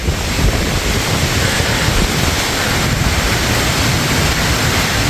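Strong storm wind roars steadily and loudly through tall mango trees in a Rajshahi orchard during Cyclone Remal, a dense rushing noise with no pauses and no voices.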